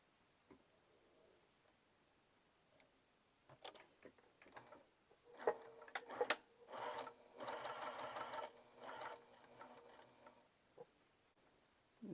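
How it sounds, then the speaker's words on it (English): A sewing machine stitches a coffee cup mug rug in close, steady bursts of rapid needle clatter, with short pauses and small handling ticks between runs. "So let's sew this."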